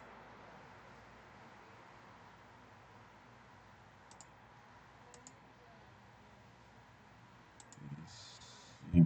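A few faint, sharp computer mouse clicks in a quiet room, spaced a second or more apart over a low steady hiss, with a slightly louder thump near the end.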